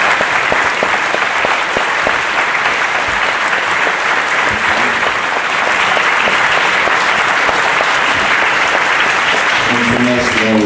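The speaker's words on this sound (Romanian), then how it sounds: "Aplauzele sunt pentru Aurel Sate și Otuceava" Sustained audience applause at an event honouring a book translator and an author in Romania, dense and loud clapping continuing steadily throughout with faint voices underneath near the end.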